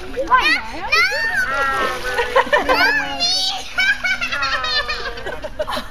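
A child splashes while trying to swim in water during a family reunion for Sukkot, with close, irregular splashes mixed with lively children's and adults' voices, giggles and laughter throughout.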